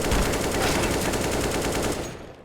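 Dense, rapid automatic gunfire in Counter-Strike: Global Offensive during a FACEIT match, a loud, continuous rattle of shots that fades out near the end.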